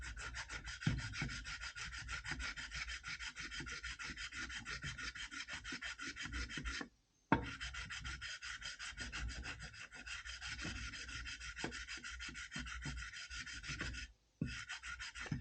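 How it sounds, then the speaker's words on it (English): A Husqvarna 266/268 chainsaw part is rubbed flat on wet sandpaper, making continuous rhythmic rasping strokes, close and quiet, broken by two short pauses, with no talking. "so it's just the sandpaper, and it's cleaning up already."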